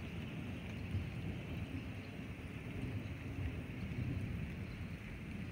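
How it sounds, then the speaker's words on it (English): A long, deep rumble of thunder rolls steadily and loudly without breaks, with a low roar that could blend with wind. "Guys, it's actually thundering. That was a big one."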